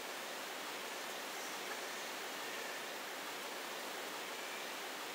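Waterfall in the Nevada Desert level of Tomb Raider 3, a constant, dense rushing roar of falling water, steady and fairly close with no other sounds over it.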